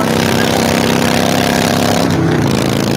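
A motorcycle engine runs loud and close with a steady, throbbing mid-range drone that changes pitch slightly toward the end, with no speech over it.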